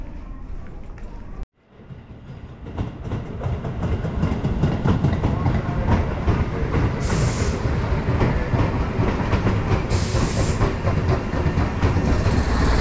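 A train passes through Tatebayashi station in Gunma, the loud rumble and clickety-clack of rail cars building after a brief silence and continuing steadily, with faint talk.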